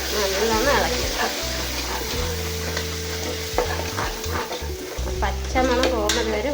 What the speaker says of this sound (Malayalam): നല്ലോണം ഇളക്കിയെടുക്കാം